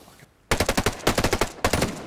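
Rapid automatic gunfire in Ghost Recon Breakpoint PvP, loud and close: a sudden sustained burst of about a dozen sharp shots, a brief pause, then another short volley.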